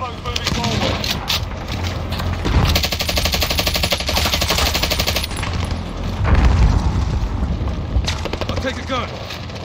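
Sustained automatic fire from a .50 caliber machine gun in the video game Call of Duty: Modern Warfare, rapid rattling bursts with booming impacts running the whole time, with voices talking over the gunfire.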